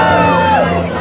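Fairground crowd at a pig race yelling and cheering in a dense, loud roar of many voices, with overlapping shouts and whoops throughout the brief burst.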